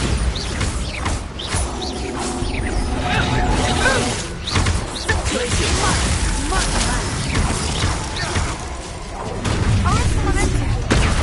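Explosive spells such as Confringo and Bombarda blast repeatedly in a Hogwarts Legacy duel, with sharp booms and crackling impacts layered over busy combat noise and shouted spell incantations throughout.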